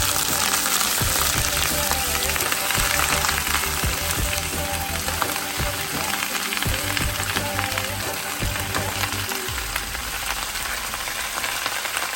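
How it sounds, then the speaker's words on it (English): Garlic and three red chilies sauté in hot oil in a pan, giving a loud, continuous close-up sizzle and crackle that never lets up. "let it saute for like 1 to 2 minutes or like until it's like light brown"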